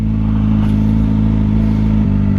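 Many cars on a road, heard from near a Kawasaki ZX-4R motorcycle, as a loud, continuous, close engine drone with no talking.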